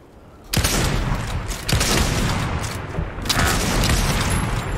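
Fortnite gunfire bursts out loudly as dense, sustained volleys with booming hits, a few sharp onsets breaking the steady barrage.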